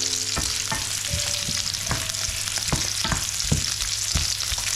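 Onions sautéed and mixed in a pan give a loud, continuous sizzle with a hum underneath, punctuated by quick, regular scraping strokes of a spatula, close up and without speech.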